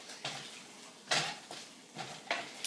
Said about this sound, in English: And then we're going to go ahead and stir that real quickly.